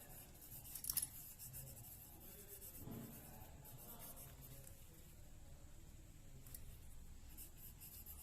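Pencil scratching on paper while plotting a graph point for a math lesson, a faint, close rasp with a louder scribbling burst near the start and softer strokes afterward.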